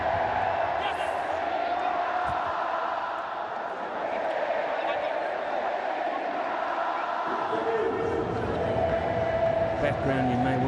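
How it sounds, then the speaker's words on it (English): Faithful cricket crowd singing in a stadium after a match win, a steady wash of massed voices throughout, fairly loud and continuous with no clear gaps. "you may well be able to hear the singing of this very, very faithful crowd"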